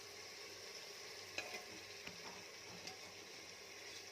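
Fish fries in a pan for mutton curry with a quiet, even sizzle, broken by a few sharp clinks of a utensil against the pan.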